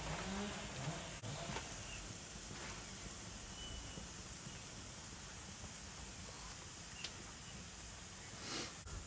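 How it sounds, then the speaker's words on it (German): Pork roast searing on a grill gives a steady broadband sizzle and hiss throughout, close and fairly loud, with a few brief crackles and pops rising above the constant frying noise. "Ich will den jetzt nur noch mal kurz so komplett einmal kurz angrillen."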